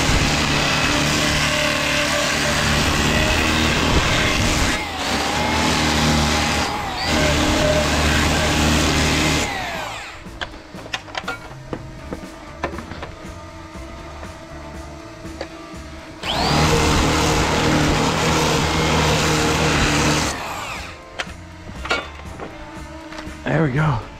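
A small power sander works over a carved wooden feather after a light burn, its mid-pitched whine running loud and steady in long bursts with brief pauses between them, close to the microphone.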